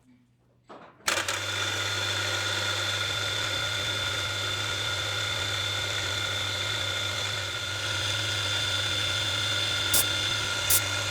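A small drill bores through the ferrules and core of a folding knife, held aligned in a dummy jig. The motor whines up abruptly after a quiet start and holds a steady, continuous buzz, with a couple of faint clicks near the end.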